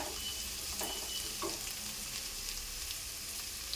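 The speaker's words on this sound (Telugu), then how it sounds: "ఈ ఆనియన్స్ ఫ్రై అవుతున్నాయి కదండి, దీంట్లో అల్లం పేస్ట్ వేసుకుందాము" Onions frying in a pan for boti curry, with ginger paste about to go in, make a steady close sizzle with a few soft stirring scrapes near the start, quiet and unbroken by any voice.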